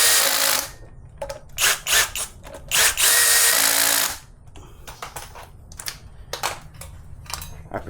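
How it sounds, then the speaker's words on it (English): A torque wrench tightens the sprocket bolts on a Kawasaki Versys 650 motorcycle, making loud, close ratcheting bursts in short clusters separated by brief pauses. "I prefer to use this torque wrench"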